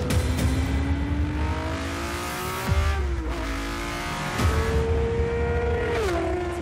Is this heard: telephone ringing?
no